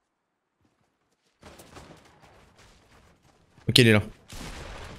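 Enemy player's gunfire in Fortnite, a rapid crackle of shots under quiet talk, then a loud sharp burst followed by more shooting while someone speaks in French.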